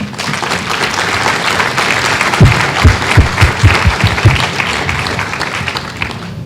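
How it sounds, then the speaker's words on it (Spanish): Loud, dense audience applause at the closing of a regional forum on victims in Barranquilla, steady throughout, with a few more rhythmic claps standing out in the middle. "Creo que merecen un aplauso."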